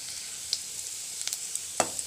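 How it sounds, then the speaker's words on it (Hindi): Garlic sizzling in hot oil as it fries until brown, a steady soft hiss with occasional small pops and a light stir, with no voices. "लहसुन को ब्राउन होने देंगे।"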